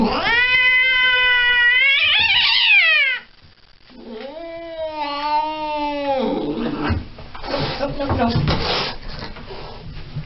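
A cat yowls at the vet in long, wavering, drawn-out cries, loud and close, with a pause and some rustling between the wails.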